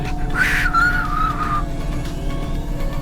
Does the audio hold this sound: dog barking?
no